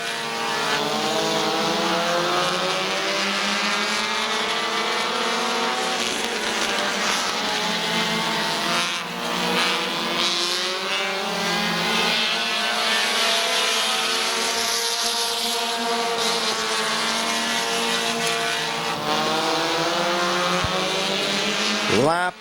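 Race cars roar around Midvale Speedway in a sustained, loud engine drone whose pitch rises and falls as the cars pass, with a commentator talking over the racing throughout.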